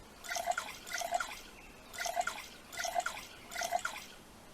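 Water boiling in the survival video game NEO Scavenger gives rhythmic bubbling, dripping pops in five evenly spaced bursts, clear and close with no talk.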